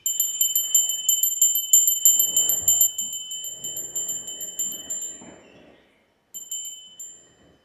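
A bell rings out in a series of bright, evenly spaced strikes that ring on and gradually fade, then a pause and one more softer strike.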